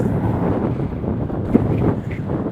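Strong wind roars across the microphone without letup, a dense, close buffeting rumble with no speech over it.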